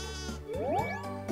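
A sheep in the farming video game Animal Parade lets out one clear, wavering bleat that stands alone over a steady musical backdrop and is close and fairly loud.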